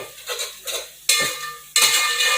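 Masala being stirred and sautéed in a pot for chicken biryani, soft scraping strokes followed by two louder bursts of sizzling and clattering, close by.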